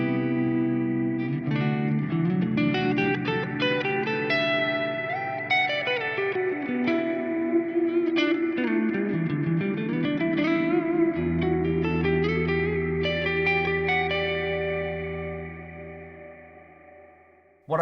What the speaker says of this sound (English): This will be a more traditional, just kind of big reverb.